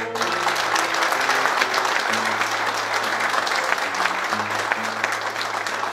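Warm applause rises from the audience at a singing festival on Santa Maria island in the Azores, continuous clapping from a crowd with faint low sustained tones beneath it, steady and close throughout.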